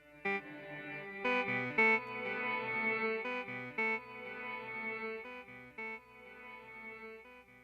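An Electro-Harmonix mini synthesizer plays chords and notes ringing out with repeating delay echoes feeding a wide reverb tail, steady and moderately loud, no voices.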